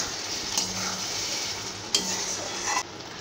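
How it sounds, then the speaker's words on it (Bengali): Chicken sizzles in a pan for a Bengali-style kadai after the lid comes off, stirred with a utensil in a few distinct scrapes and knocks over a steady close hiss, with no one speaking. "এবার ঢাকনাটা খুলে চিকেনটা নাড়াচাড়া করে দেব।"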